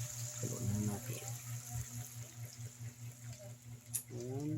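Water poured into a cooking pot holding seashells and lemongrass, a faint wash of liquid under a steady electrical hum, with a person talking at the start and end.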